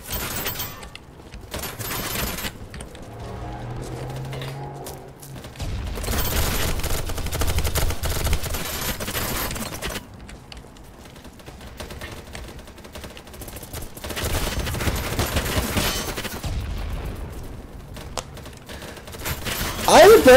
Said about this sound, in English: Back with all the gunfire.